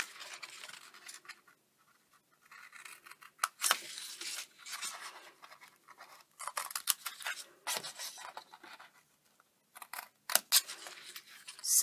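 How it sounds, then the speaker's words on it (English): Scissors snipping a scored card template for a chocolate bar shadow box, a series of close, crisp cuts and paper rustles with quiet pauses between them. "and then just snip down and remove that."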